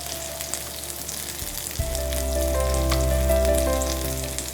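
Finely chopped onion sizzles in hot oil in a pan, a steady crackling fry that grows louder and denser after fresh pieces go in partway through, with no talking.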